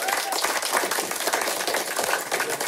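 Battle-rap event crowd applauding the two rappers, a thick sustained wash of many hands clapping at fairly close range, steady throughout with faint crowd murmur underneath and no distinct speech.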